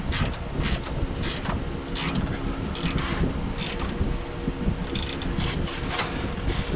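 A ratchet wrench tightens the exhaust nuts while fitting a cheap aftermarket catalytic converter on a 2005 Toyota Sienna, its rapid clicks coming in repeated short bursts over a steady background hiss.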